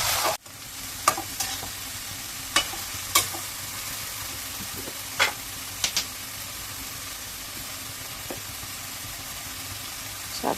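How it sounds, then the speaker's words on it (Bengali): Bitter gourd leaf greens frying with small potatoes in a pan, a continuous soft sizzle broken by scattered sharp clicks and scrapes of a spatula stirring, close and without talk. "আলতো করে শাকগুলো আমি নেড়ে চেড়ে মিশিয়ে নেব।"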